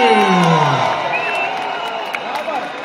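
Outdoor rock concert crowd on a city square cheers and whoops loudly, with some clapping in the mix, voices rising and sliding in a dense, sustained roar.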